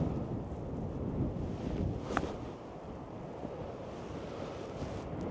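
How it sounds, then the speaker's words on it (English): Strong wind gusting across an open coastal golf course at Aberdovey, a steady loud roar and buffeting on the microphone with no voices. "But that wind is so strong."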